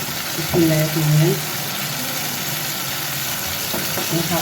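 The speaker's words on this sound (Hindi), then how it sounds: "मसाले को हम थोड़ा और भूनेंगे जब तक टमाटर सॉफ्ट नहीं हो जाए" Spices sizzle and fry with softened tomatoes in a karahi for anda karahi, a steady broadband hiss running throughout while a voice briefly hums or speaks over it early on.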